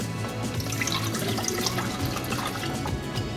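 Liquid coconut cream pie filling is poured back into a saucepan, giving a close, continuous splashing, burbling flow for a few seconds with no talking.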